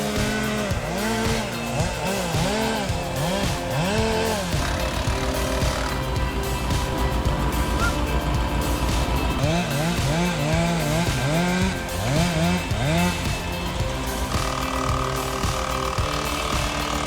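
A big chainsaw roars nonstop while felling trees in a snowy forest, its engine revving and bogging through the cuts with loud, steady, close-up power and no voices.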